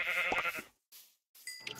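A cow moos in the Minecraft video game, with short, bleating-like calls close up, separated by brief silent gaps.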